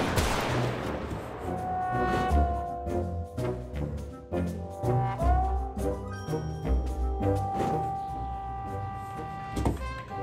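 Gunfire in the GTA RP video game, with sharp shots scattered across the clip over busy game music and engine noise, loud and close.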